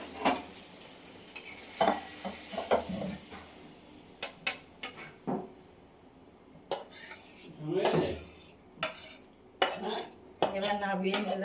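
A pot of pointed gourd curry being moved off a gas stove: metallic clanks and knocks of cookware and utensils over fading sizzle, irregular and close, with some busier rattling near the end.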